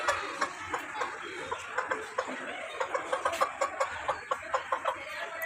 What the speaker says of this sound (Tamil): இது வந்து ஜாப்பனீஸ் பால்னா இந்த கோழி பாருங்க, செம்மையாக இருக்கான்.